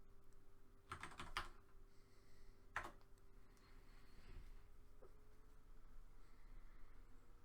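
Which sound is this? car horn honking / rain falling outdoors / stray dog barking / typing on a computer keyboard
typing on a computer keyboard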